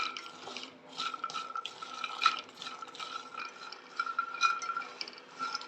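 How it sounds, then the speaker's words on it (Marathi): Makhana (fox nuts) frying in hot ghee in a kadai, giving a steady close crackle and fizz with light stirring scrapes throughout. "त्याच्यामध्ये मी हे मखाणे तळून घेते आहे"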